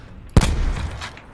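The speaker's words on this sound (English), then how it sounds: "He's throwing out more nades." A single sharp grenade blast goes off close by in the video game Call of Duty: Black Ops 4, a sudden loud crack that trails into a short rumbling decay.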